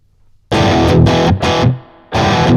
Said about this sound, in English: Let's turn the reverb down even more